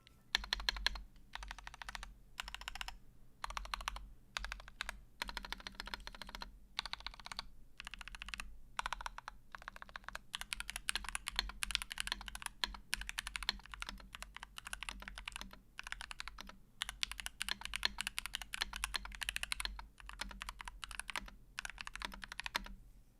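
Keys clatter on a Halo 65 custom mechanical keyboard in quick, uneven bursts of close, crisp clicks with short pauses between runs and no talk.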